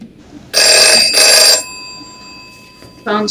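A telephone rings in two loud bursts in a Five Nights at Freddy's trailer, with an electronic tone lingering faintly between and after them.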